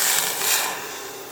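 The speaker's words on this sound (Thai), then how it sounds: "เทน้ำใส่ลงไปในกระทะนะคะ" A brief steady rush of water pouring into a pan for tom yum chicken soup, close by, with a bright hissing splash that tapers slightly toward the end.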